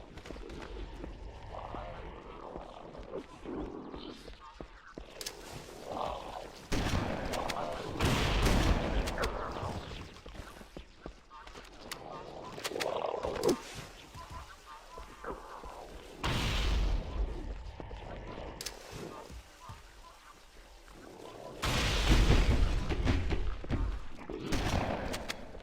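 Gunfire bursts during a firefight in the video game Halo: Combat Evolved, coming in loud clusters that rise and fall across the clip, with quieter stretches between volleys and some speech mixed in.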